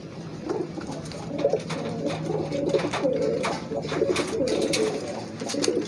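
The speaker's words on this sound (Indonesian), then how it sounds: "Kita cari merpati yang ngeblekur." Racing pigeons in a loft coo in low, repeated, overlapping burbles, close by, with light rustling and clicks in the background.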